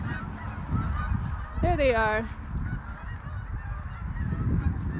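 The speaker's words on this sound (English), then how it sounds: "Birds making all that noise." A single loud goose honk rings out over a low rumbling background, with a brief spoken remark.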